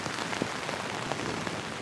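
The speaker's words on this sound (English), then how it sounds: "Rain is really coming in now." Heavy rain drums steadily on the fabric of a Hilleberg Unna tent pitched at an alpine campsite, a dense, continuous patter with a few louder drops standing out, close and enveloping.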